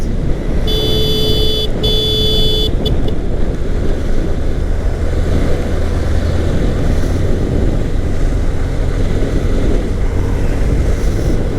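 A car cruises along the Padma Bridge expressway in Bangladesh, giving a loud continuous road and wind roar with a short tonal chime near the start.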